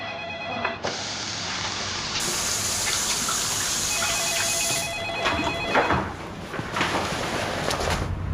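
A telephone rings continuously for several seconds in a drama scene, its bright repeating electronic tone sitting over a steady rushing, gushing background noise, with no one speaking.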